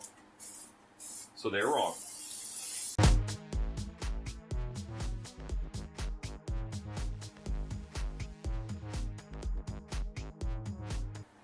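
Spray paint hisses from a can onto a spray foam pumpkin in a short burst, then a voice talks over steady rhythmic music.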